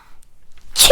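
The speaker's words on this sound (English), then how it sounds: "Sneezing." A single sharp, close sneeze bursts out at the very end after near silence, loud and abrupt.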